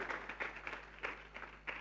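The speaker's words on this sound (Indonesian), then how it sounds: "Ya boleh beri tepuk tangan, haleluya." A crowd claps steadily, a dense patter of many hands with brief swells, fairly close and not very loud.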